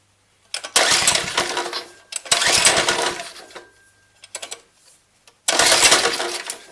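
A Lifan 2.5 hp small engine on choke sputters to life in short, loud bursts of a second or two, each dying out before the next attempt, close to the microphone with no talking.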